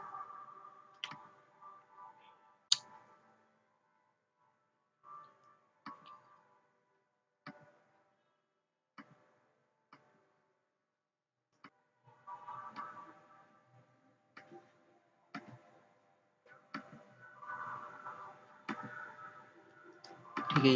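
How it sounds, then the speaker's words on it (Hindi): Typing on a computer keyboard while filling in an online passport application: sparse, irregular clicks and short bursts of keystrokes, close and fairly quiet, with silent gaps between them. "मेरा नाम जो है वो टाइप कर देता हूँ"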